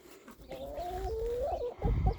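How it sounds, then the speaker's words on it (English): Backyard hens clucking close by, a short drawn-out call followed by a couple of quick clucks over soft background noise. "I've got about 22 hens right now."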